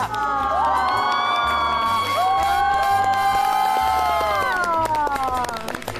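A studio audience at a variety show cheering and shrieking excitedly, with loud overlapping high-pitched voices and whoops and scattered clapping throughout, dense and close.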